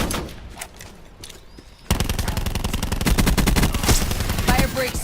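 Rapid bursts of gunfire from the Swordfish burst-fire weapon in Call of Duty Black Ops 4 Blackout, loud and close, starting after a quieter opening and repeating in tight volleys.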